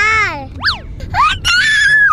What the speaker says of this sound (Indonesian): Itu nggak boleh teriak.